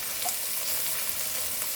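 Carrots and beans fry in a spoonful of ghee for a vegetable paneer pulao, giving a soft, steady sizzle with faint crackles and no voices.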